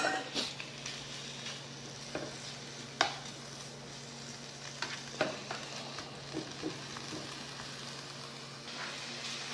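Small-cut bacon, about 150 grams, sizzles in a frying pan while being stirred, with a steady crackling fry and scattered clinks and scrapes from the utensil, close and alone with no voices.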